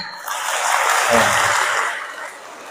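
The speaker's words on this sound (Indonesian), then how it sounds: "Tepuk tangan." Audience applause fills a hall during an Indonesian Islamic lecture, a steady wash of many hands clapping that swells in the middle and then tapers off without fading fully.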